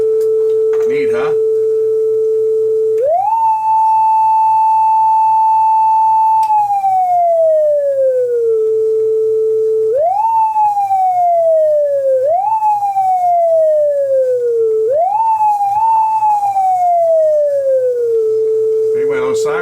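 An electronic tone from a TASCAM 133 cassette deck sweeps up and down in a siren-like wail, with long holds and repeated rising swoops, steady and loud over a low constant hum.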